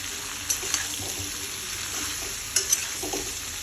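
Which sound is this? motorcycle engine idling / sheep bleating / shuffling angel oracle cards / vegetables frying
vegetables frying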